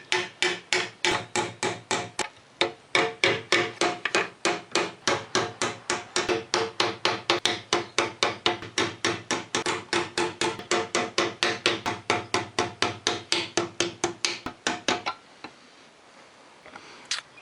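Rapid, steady hammer blows ring out one after another as a crushed radiator inlet pipe from a Honda CX500 motorcycle is beaten back into shape, dozens of sharp metallic strikes for about fifteen seconds, then stopping.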